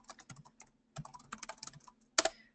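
Fingers tapping quickly on a computer keyboard in short bursts of close, soft clicks, with a brief pause and a final firmer keystroke.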